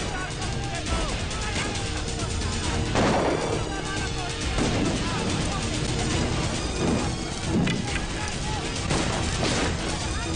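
Gunfire and crashing impacts in a Hindi film scene from the 2003 movie Aanch, with several loud bursts standing out over a dense, continuous mix of dramatic score, shouting and commotion.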